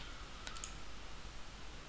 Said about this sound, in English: When I click on it, look what happens.